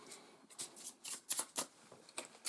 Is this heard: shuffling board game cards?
yes